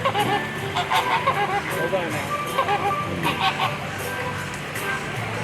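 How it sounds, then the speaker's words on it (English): Several geese honk repeatedly in an uneven chorus, fairly close, with other birds and faint voices in the background at Miami Seaquarium, Virginia Key, Florida. "Got a couple geese here too."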